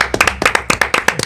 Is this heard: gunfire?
no